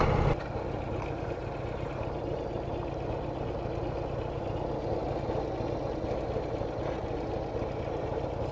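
A 1998 Harley-Davidson Heritage Softail engine idles nearby with a steady low rumble and uneven lumpy throb that continues unchanged, with no speech over it.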